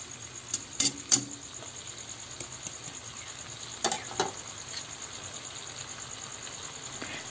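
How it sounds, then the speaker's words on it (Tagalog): Fried eggplant dropped into a hot pan, with a steady soft sizzle throughout and a few sharp clatters of utensil against the pan early on and near the middle. "Pagkatapos ng 3 minuto, ilagay na natin ang naset aside natin kanina na pritong talong."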